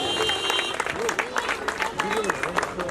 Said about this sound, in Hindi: उसके लिए भी एक बार जोरदार तालियां